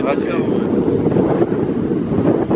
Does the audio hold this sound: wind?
yes